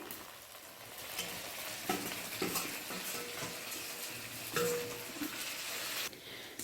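Chopped tomatoes hit already-fried onions in a home kitchen pan while green banana sabzi is being made, giving a continuous crackling sizzle with occasional utensil clinks and stirring scrapes, no talking.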